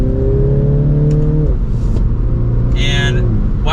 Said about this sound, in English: let's give it some gas from third